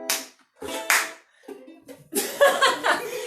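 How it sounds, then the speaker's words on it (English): Children clap along during a storytime song at a regional library, a few scattered bursts of hand claps mixed with an adult's singing voice and light laughter, close and uneven in rhythm. "clap your hands"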